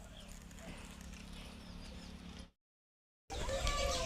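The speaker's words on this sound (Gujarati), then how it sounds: "આ ડાન્સની ઘોડી છે" Hooves of a dancing mare clip-clop near a person who is talking. The sound is steady, then cuts out briefly and comes back louder.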